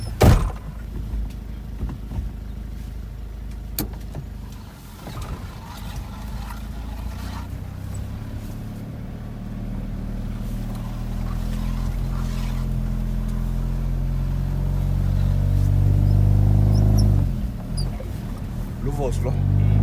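A truck pulls away at the start of a driving road test, its engine rumbling low and swelling steadily louder as it accelerates, with clunks and rattles early on and the hum dipping briefly near the end.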